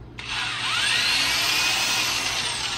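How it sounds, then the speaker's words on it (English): A power drill with a 3/16 inch bit whines loudly and steadily while boring holes into plastic end caps for a live bait float, starting abruptly after a brief pause. "Drill the holes in the end caps."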